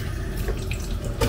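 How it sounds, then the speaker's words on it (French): Tap water runs steadily into a bowl in a home kitchen, a close, even rush of water that swells slightly at the end. "Je vais rajouter l'eau."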